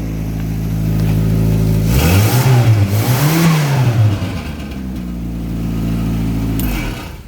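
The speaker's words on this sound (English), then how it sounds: "As you can tell, the exhaust is pathetic. It sounds terrible." An Austin 1100 (ADO16) kit car engine idles with a thin, poor-sounding exhaust, then is revved twice in rising and falling swells before settling back to a steady idle, loud and close with no talk.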